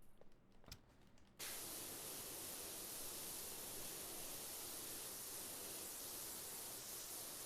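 A pressure washer sprays while cleaning in a video game: after a quiet second and a half it bursts into a loud, steady hiss that runs on unbroken to the end.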